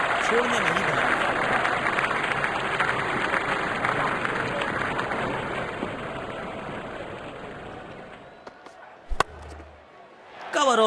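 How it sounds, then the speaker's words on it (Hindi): Opposing fans in a cricket crowd applaud an off drive during an India versus England T10 match, a dense, sustained roar of clapping and crowd noise that thins out toward the end, with a brief sharp knock near the close. "जब अपोनेंट फैंस भी ताली बजा दे तो समझ जाइए बैटिंग कमाल की हुई है।"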